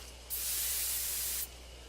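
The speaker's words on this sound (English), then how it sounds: "I take careful aim and spray the drug." A sprayer releases a steady, even hiss of sleeping drug onto a beehive in the horror game Death Mark, lasting about a second over a low background hum.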